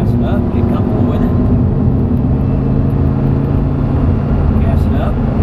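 An exotic sports car's engine drones steadily as it accelerates around a track, a loud low rumble heard from inside the cabin, with an instructor talking over it.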